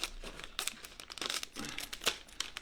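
Crinkly plastic chip bag being opened or cut for Frito pie, a run of close, sharp crackles and tearing rustles with brief louder bursts, no voices.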